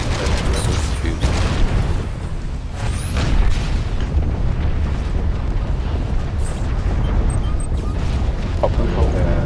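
Mortar shots exploding in a video game, repeated booming blasts and rumbling impacts layered densely and fairly loud, with a player talking over them.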